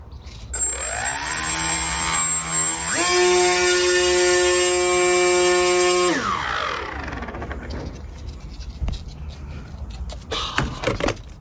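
The electric motor of a fixed-wing OpenHD drone spins up close by with a rising whine, holds a steady high-pitched tone for a few seconds and then winds back down, leaving quieter clicks and rustling.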